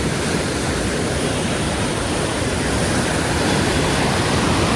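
Floodwaters of the Ganges at Rishikesh after a cloudburst, rushing and roaring as a steady, loud, broadband wash with no pause.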